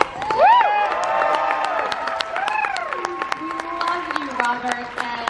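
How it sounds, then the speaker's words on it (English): Audience at a 2017 Robert Englund panel breaking into a long, loud ovation of applause, cheering and whoops, with shouted voices and a host's voice over the crowd. "You guys, one more huge round of applause for Robert."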